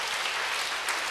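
Congregation applauding in church during a Sunday worship service, giving glory to the Lord; a short, steady wash of clapping that stays fairly even throughout.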